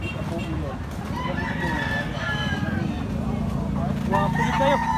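Hatch Gray gamefowl roosters at a public market crow and cluck in a busy, overlapping chorus, close and fairly loud, with crowd noise and talk underneath throughout.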